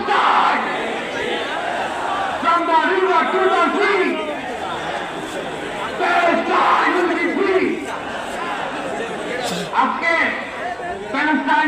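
A large crowd at a pro-Palestine solidarity rally chants in loud, repeated waves, voices overlapping and roaring together in a sustained outdoor din.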